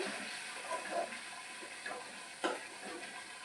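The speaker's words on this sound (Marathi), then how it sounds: "आता तेल सुटेपर्यंत मसाला तळून घ्यायचा." Masala fries in oil in a kadhai while a Marathi chicken curry cooks, a faint, steady sizzle and hiss with a few soft ticks and stirring clicks.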